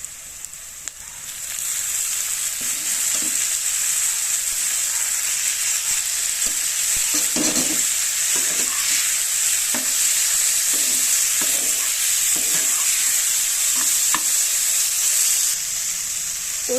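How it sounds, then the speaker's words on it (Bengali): Water spinach (kalmi greens) being stirred and fried in a pan, giving a steady, close sizzle for the whole stretch with repeated scraping stir strokes and no talking. "শাকটা আমি একটু এভাবেই ভালো করে ভাজা করে নেব, নাড়াচাড়া করে নিয়ে।"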